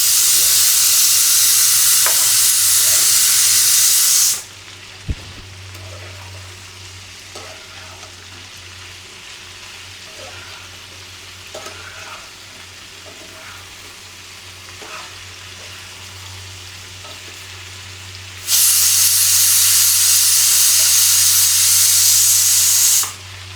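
Bitter gourd (karela) frying in a pan, a loud, steady hiss and sizzle close by that cuts off for a long stretch and then returns, with faint clicks in between.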